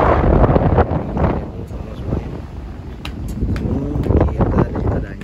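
Strong wind buffets the microphone on a ferry out at sea from Merak port, a loud, continuous low roar rising and falling in gusts with a faint voice underneath.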